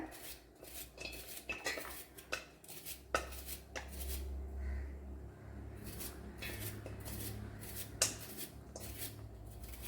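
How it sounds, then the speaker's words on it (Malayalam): A knife finely slicing bitter gourd on a board, producing a quick run of crisp cutting taps and clinks close by, with brief pauses and a low hum underneath. "എന്നിട്ട് ഇങ്ങനെ വശമൊന്ന് അരിഞ്ഞെടുക്കാം. നൈസായിട്ട് അരിഞ്ഞെടുക്കാം."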